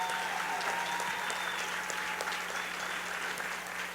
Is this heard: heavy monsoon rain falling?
no